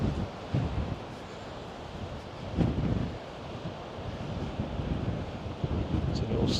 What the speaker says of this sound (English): every time I've actually been here, it's been windy